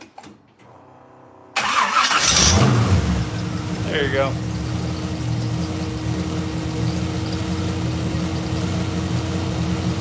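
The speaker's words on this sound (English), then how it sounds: "wants to see the 40 Ford start" A 1940 Ford fitted with a 350 two-bolt-main small-block, stock crank and rods, cranks and fires up, then settles into a loud, steady idle, with brief talk during the start.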